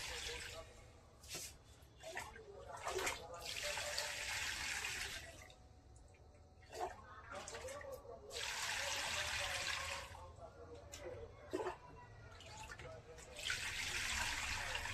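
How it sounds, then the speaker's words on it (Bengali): Water is poured onto soil in a pot around a freshly repotted citrus plant, coming in several splashing bursts separated by pauses, with a person talking between them. "জল দিয়ে আমরা ভিজিয়ে দেবো"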